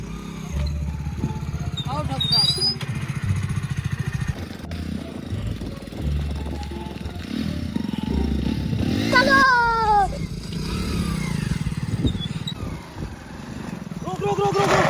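A motorcycle engine rumbles and idles nearby in a village, its low throbbing running steadily under people talking, with brief rises in loudness as it revs.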